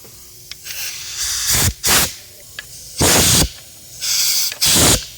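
Compressed air blasts over a Lexus IS250 engine to clear debris, as four or five short, loud hissing bursts with quiet gaps between them, close up.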